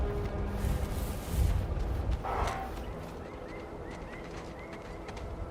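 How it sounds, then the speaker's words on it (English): A bird in the Outer Worlds 2 game squawks briefly in the middle of a low rumbling ambient background, followed by a few faint chirps. "Kind of like a squawk."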